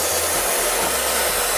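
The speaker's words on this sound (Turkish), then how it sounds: "Aç süpürgeyi." A vacuum cleaner runs steadily at close range, a continuous loud whooshing roar with no pauses or talk.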